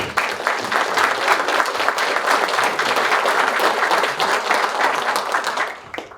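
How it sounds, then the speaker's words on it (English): An audience at a dinner event applauds a host and his staff, a dense, loud burst of clapping that holds steady for several seconds before tapering off at the end. "So if you could please join me in giving me a round of applause for Manny Cruz and his staff."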